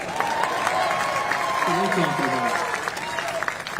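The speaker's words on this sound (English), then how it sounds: "Yeah, you better clap for that one." Audience applause at a public welcome event in San Antonio, steady clapping from a crowd throughout, with a voice speaking faintly over it midway.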